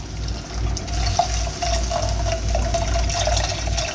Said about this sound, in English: I'm going to add in our milk, and we're going to continue to whisk this